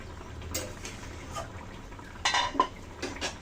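A metal lid set down on a cooking pot during a curry of rohu fish: a couple of sharp clinks near the end, with scattered faint kitchen clatter before.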